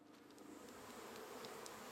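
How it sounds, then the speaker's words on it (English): Steady, dense buzzing of honey bees during a hive inspection, filling the whole stretch, a continuous hum with faint higher flickers as insects pass close. "you might be able to hear the bees. That pitch has increased"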